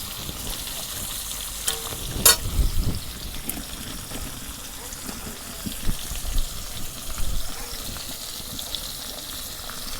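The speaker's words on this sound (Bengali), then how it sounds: "মাছ এক পিঠ ভাজা হচ্ছে, আর এক পিঠ ভাজবার নিগে উল্টে দিই।" Pangas fish frying in oil in a pan on a clay stove, a steady close sizzle with occasional louder bursts and clinks of stirring.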